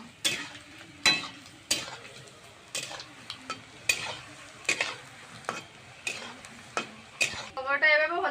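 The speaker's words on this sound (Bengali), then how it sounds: "উল্টিয়ে পাল্টিয়ে ভাজা ভাজা করে নেবো" Chicken pakora bubbling and sizzling in hot oil, with repeated sharp clinks and scrapes of a utensil turning the pieces in the pan at a steady, close rhythm.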